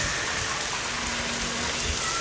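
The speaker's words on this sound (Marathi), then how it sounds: "तर पाऊस चालू आहे मस्तपैकी" Steady rain falls outside a shop in Ranjangaon in the evening, a dense even patter and hiss at moderate level with no voices.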